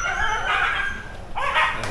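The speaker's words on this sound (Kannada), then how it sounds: "ನಾಯಿಗಳೆಲ್ಲ ಏನೋ ಕೂಗಾಡ್ತಾ ಇದೆ" Several dogs barking and yelping along a path near a waterfall trail in Karnataka, a burst of overlapping calls filling the moment, moderately close and fairly loud, with no one speaking.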